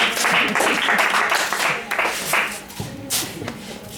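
A church congregation claps and applauds in a busy, dense burst that thins and fades, with voices mixed in and scattered sharper claps near the end.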